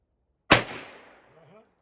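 A single sharp gunshot from a Freedom FX AR9 rifle cracks loudly and then fades in a short echoing tail, with no voices.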